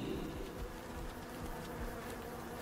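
Bees swarm with a dense, continuous buzzing drone in Saints Row 3, steady and fairly loud throughout with no voices.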